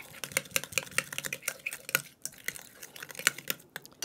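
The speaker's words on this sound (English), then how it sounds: "I'm just gonna cream the yolks into" Egg yolks are creamed into butter and sugar in a bowl, a fast rhythmic series of close, sharp spoon taps and wet smacking strokes against the bowl, fairly quiet, with no speech.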